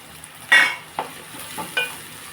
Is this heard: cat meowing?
no